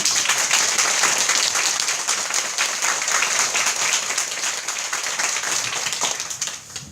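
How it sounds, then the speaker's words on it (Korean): Sustained applause from a film-screening audience fills the room, dense and even clapping throughout that tapers slightly toward the end. "박수 마음껏 주셔도 되고,"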